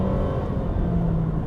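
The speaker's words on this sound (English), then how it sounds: "it's dead quiet in here other than the sounds coming from the engine and from the drivetrain" A 2023 Honda HR-V Sport's engine and drivetrain hum under acceleration, heard from inside the cabin as a steady low droning rumble with a faint rising tonal whine, no talking.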